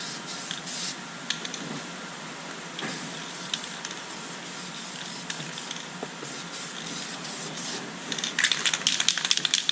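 A spray can lays a light dusting coat on interior plastic in short, repeated hissing bursts close by, with faint clicks and rattles between passes.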